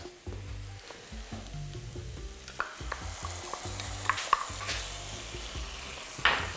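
Food is stirred in a hot pan, with a constant close sizzle and rhythmic scraping strokes of the spoon against the pan.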